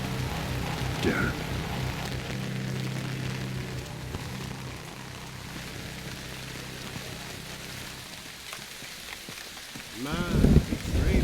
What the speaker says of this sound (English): Man, it's very rainy.